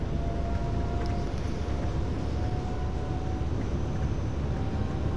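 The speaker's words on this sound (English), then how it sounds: "sound of the train and brakes" Electric train in Train Sim World 2 on the Munich–Augsburg main line, a steady rumbling run with a faint thin brake whine running through, continuous and even with no talk.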